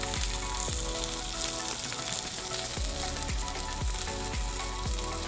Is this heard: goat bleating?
no